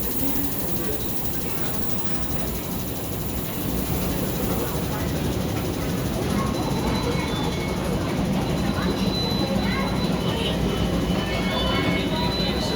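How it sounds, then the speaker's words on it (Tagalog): A train to Ocean Park, Hong Kong, rumbles steadily throughout, a broad loud roar of rail noise with voices faintly mixed in among the ambient clatter. "Ayan po yung tren na sinakyan natin."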